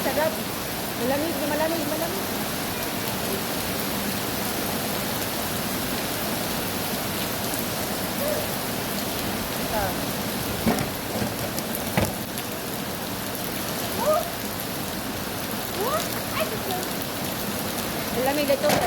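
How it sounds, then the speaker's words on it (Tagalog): Heavy rain pours steadily onto an umbrella and the ground around it, a continuous close hiss with scattered drips, while people speak faintly underneath. "Magpayong ko para hindi mabasa sa ulan."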